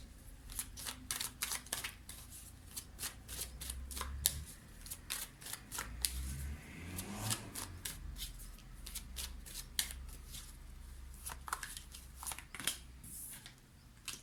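Tarot cards are shuffled and laid out on a table in soft, close riffles and quick flicks that recur steadily for several seconds, with no talk.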